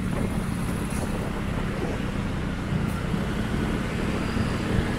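Strong wind buffets a DJI Osmo Pocket microphone while riding a motorcycle on a quiet road, making a steady, loud roaring rumble that fills the whole stretch with no talk.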